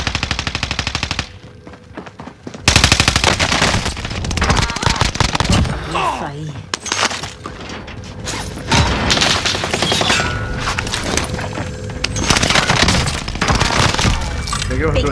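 Loud gunfire in Call of Duty: Warzone with rapid automatic bursts and single shots, broken by brief pauses, with players' voices talking over the action.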